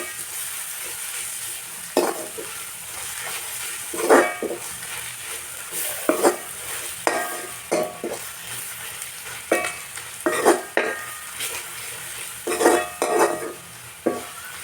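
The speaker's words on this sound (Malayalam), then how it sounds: "നന്നായിട്ട് ഇളക്കി കൊടുക്കാം." Masala powders with turmeric, coriander and chicken masala stirred in a frying pan, a soft sizzle punctuated by regular sharp scrapes and clinks of the spoon against the pan.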